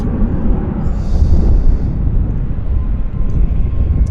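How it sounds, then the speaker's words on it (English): Air Canada Boeing 777-200 jet taking off at Vancouver YVR airport, a steady loud broadband engine roar with strong low rumble, sustained throughout without talk. "once this Air Canada Toronto bound 777-200 has done its takeoff"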